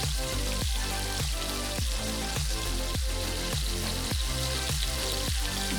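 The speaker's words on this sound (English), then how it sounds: "when you can hear it sizzling like that. You can smell the thyme, you can smell the butter." Salmon pan-frying in butter with thyme sizzles steadily up close, a bright continuous crackle overlaid with a regular pulsing rhythm of low repeated thumps throughout.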